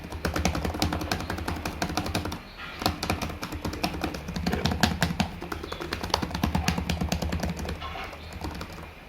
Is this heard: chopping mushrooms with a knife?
no